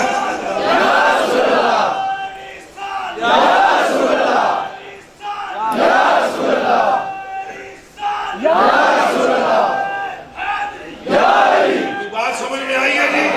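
A large crowd at a religious naat gathering chants slogans in unison, loud rhythmic bursts of massed voices repeating every couple of seconds with short pauses between.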